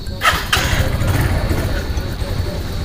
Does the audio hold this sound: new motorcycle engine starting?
yes